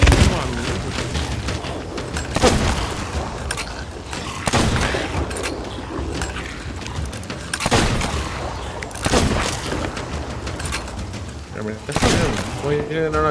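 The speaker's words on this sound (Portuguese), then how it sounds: "tô errando todos os tiros" Repeated gunshots fired during a Sea of Thieves pirate game, loud broadband cracks every couple of seconds over a continuous game soundscape of wind and sea, with a player talking throughout.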